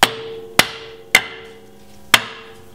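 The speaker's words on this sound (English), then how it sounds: "take your hammer and just give it a nice firm tap" Four sharp metallic hammer taps on a vehicle differential cover, evenly spaced with a brief ringing decay after each strike.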